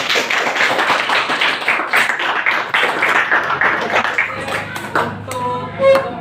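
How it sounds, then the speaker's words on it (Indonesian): A classroom of students claps for a presenting group during a microteaching session, a few seconds of brisk, uneven close-by clapping that thins out into scattered taps and light room noise. "Tepuk tangan dulu."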